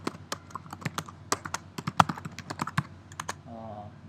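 Computer keyboard keys clicked in quick, uneven bursts while logging in to a dental clinic app, crisp and close, with a short murmur of background noise near the end.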